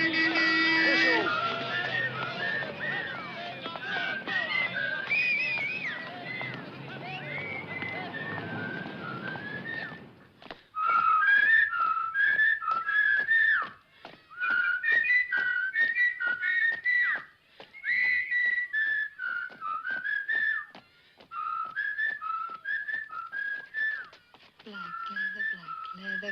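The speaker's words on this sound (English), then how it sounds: "Whistle." A person whistles a lively tune in a 1963 film, first under a murmur of crowd noise, then alone in short, bright, repeated phrases broken by pauses.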